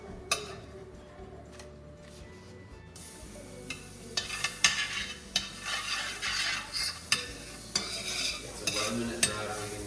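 Eggs frying in a pan, quiet at first, then a bright crackling sizzle with spatula scrapes and clinks building over the second half, no one talking.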